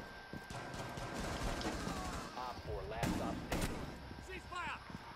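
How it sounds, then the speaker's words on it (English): Video game gunfire from the opposing team cracks out in short bursts and single shots at a distance, mixed with game effects and faint background chatter. "The other team actually shot me through across the map"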